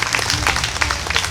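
Church audience applauding at a French Christian gathering, a short burst of dense, steady clapping from a crowd that fills the room evenly without pause.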